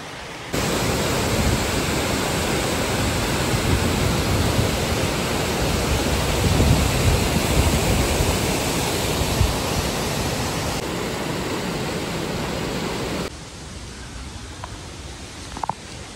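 Steady, loud roar of waterfalls beside a hiking trail with wooden footbridges in Switzerland, a continuous broadband rush that drops a little in level near the end.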